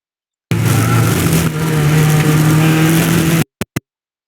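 A race car holds full throttle on the VIR North track, its engine a loud, steady droning roar heard from close up for about three seconds before cutting off abruptly, followed by two brief blips.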